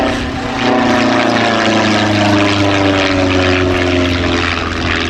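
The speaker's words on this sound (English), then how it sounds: "he absolutely loves flying this aeroplane" A Cassutt racing plane drones loudly and steadily nearby at an air show, its engine hum rising slightly at the start and then holding at a constant pitch.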